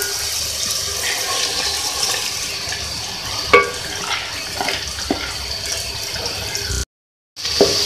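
Lentils for daal mash tipped into frying masala and stirred, a continuous rustling, scraping scrape with a few sharper clicks, close by and without talk, briefly cut to silence near the end.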